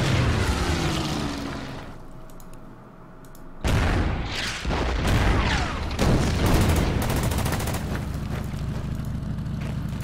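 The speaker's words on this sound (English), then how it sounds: "so let's just bomb the AT down." An anti-tank unit is bombed in the Order of Battle wargame with a sharp onset of booming impacts and crackling blasts after a quieter stretch, loud and close, with the rumble continuing afterward.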